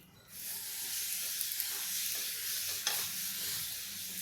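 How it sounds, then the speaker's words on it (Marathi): Oil is spread with a piece of paper across a hot griddle for green pea dosa, giving a close, steady hiss and sizzle with a few faint scraping ticks, no voices heard. "थोडंसं तेल या तव्यावर टाकून पसरवून घेऊया मी चक्क पेपरनी हे तेल पसरवणार आहे"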